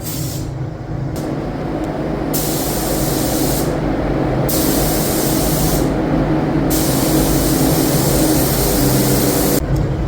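Spray gun lays a coat of black paint on 2014 Harley-Davidson Street Glide motorcycle parts, a loud continuous airy hiss that pulses briefly as the trigger is eased and squeezed.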